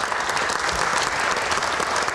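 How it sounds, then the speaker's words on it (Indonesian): Studio audience applauding students in a Q&A special broadcast, a dense, loud burst of clapping sustained without pause. "Tepuk tangan untuk rekan-rekan mahasiswa yang hadir di studio."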